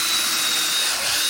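Small power drill boring a hole through a wooden logging trailer stake, a steady high-pitched whine with continuous grinding, close and loud throughout without pause.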